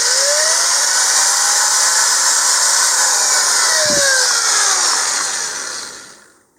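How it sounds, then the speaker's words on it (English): A power drill bores out a part of a LOC Precision Iris 2-inch model rocket with a 13/64 bit, a loud steady high whine running nearly seven seconds before winding down and fading at the end. "then we'll just drill that out"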